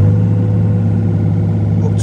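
Yanmar ViO33 three-ton mini excavator diesel engine running steadily at close range with a deep, even drone and no clear rise in pitch.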